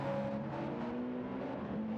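GT race cars, including a McLaren and a BMW, pulling into the pits during a 24 Hours of Le Mans sim race, heard as a steady, fairly faint engine drone with a slight rising whine, no talk over it.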